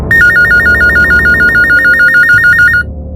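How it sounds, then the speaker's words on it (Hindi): Telephone ringing loudly and close, a rapid repeating electronic trill for nearly three seconds, then cutting off. "हमें फिर एक फोन कॉल आया।"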